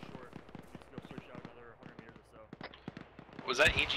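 Mark 19 grenade launcher rounds thumping in rapid bursts, fairly distant, followed by a sharper nearby crack at the end, with faint radio-style voices around.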